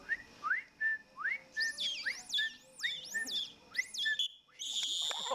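A person whistles an imitation of a dolphin's signature whistle: a run of rising, swooping high-pitched whistles repeated in quick succession, close and clear, ending with a brighter, noisier burst.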